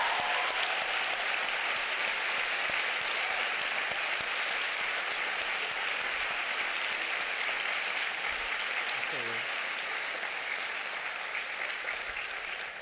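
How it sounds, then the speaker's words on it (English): An audience at a book reading gives sustained, even applause lasting over twelve seconds, a steady wash of clapping that slowly tapers. "a round of applause for this"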